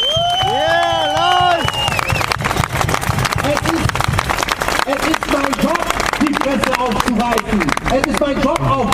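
A large crowd at an outdoor protest rally breaks into loud, sustained applause and cheering, with high whoops and shouts over dense clapping, and voices calling out throughout.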